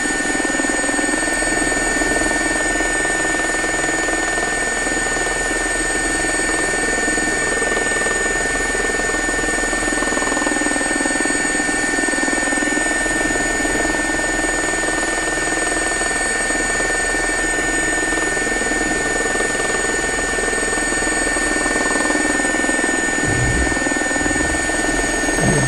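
The steady whirring drone of a helicopter's rotor and engine in a flight simulator game, in gusty wind, holds constant and loud throughout, with no voices.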